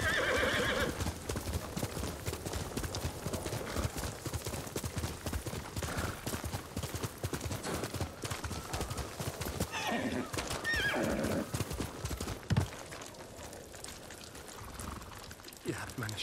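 Horse hooves clip-clop steadily while a horse neighs and whinnies, with rustling movement and game sound effects around them, in the video game Ghost of Tsushima.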